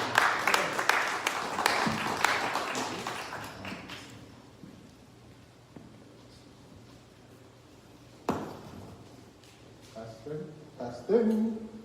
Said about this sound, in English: Everyone please give a round of applause to Thierry.